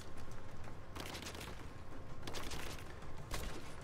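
Gunfire in the video game Rise of the Tomb Raider, a few sharp bursts of shots over a dense, noisy game background with no talking.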